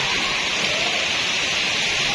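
Hail and heavy rain pour down outside a madrasa at Khagan Bazar in Savar, Bangladesh, a dense, steady hiss that fills the whole stretch without letup and with no voices.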